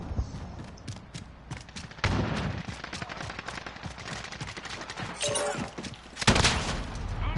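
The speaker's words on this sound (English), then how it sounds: "this guy threw a grenade from God knows where" Video game battle with rapid gunfire and a grenade blast, loud continuous shooting with heavier booming bursts partway through and near the end.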